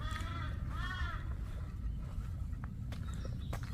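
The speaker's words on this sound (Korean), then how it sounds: "까마귀가 울고 있네." A crow on a mountain trail through silver grass fields at Gwanggyosan in Suwon gives two harsh caws early on, heard over constant wind and ground noise, followed by faint scattered sounds.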